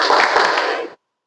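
A group of scouts claps the second-round clapping pattern in unison, a short dense burst of hand claps that ends cleanly after about a second.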